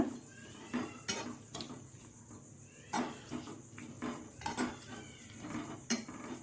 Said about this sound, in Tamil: இந்த மாதிரி லைட்டாக கிண்டி விடுங்க